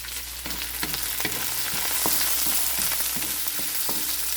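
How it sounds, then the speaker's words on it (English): Spices sauté all at once in a preheated cooking pot or wok, a steady close sizzle broken by sharp clicks and scrapes of a utensil stirring at irregular intervals. "let's begin sauteing all our spices together all at once into our preheated cooking pot or wok"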